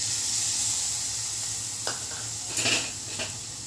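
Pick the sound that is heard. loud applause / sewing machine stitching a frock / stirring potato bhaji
stirring potato bhaji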